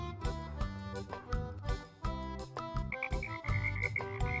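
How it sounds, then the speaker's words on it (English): Excited frogs croak over a busy backdrop of bright melodic music, the calls blending into the tune for a few seconds. "Straight ahead, the frogs cried out excitedly."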